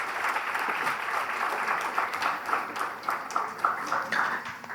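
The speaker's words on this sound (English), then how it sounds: "please give a big round of applause for our panelists" An audience at a panel discussion on active ageing applauds the panelists, a full, continuous round of clapping from a sizeable crowd that holds steady throughout.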